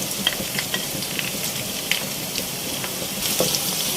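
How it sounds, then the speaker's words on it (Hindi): Whole spices and onions frying together in oil for a chicken stew, giving a close, continuous sizzle and crackle with a few light stirring taps. "इसको मैं प्याज के साथ तलूंगी यहाँ पर"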